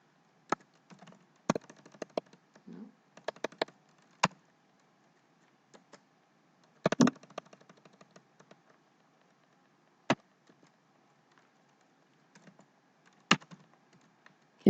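Typing code on a computer keyboard, quiet close key clicks in short irregular bursts with sharper isolated taps and gaps of silence between, no voices.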